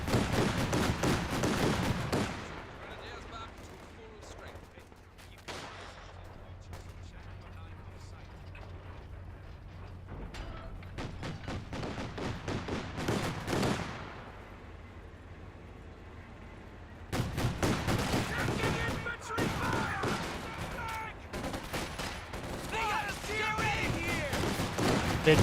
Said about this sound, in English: Black half track sitting on up, firing away.